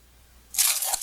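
Kitchen scissors trimming homemade apple pie dough, giving a short crisp snipping crunch near the end of an otherwise quiet moment.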